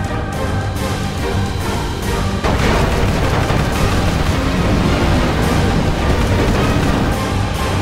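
Ship's gun firing at eco-pirates in the video game Jak & Daxter: The Lost Frontier, a steady loud barrage of heavy booming shots that swells after a couple of seconds and keeps pounding, with no voices.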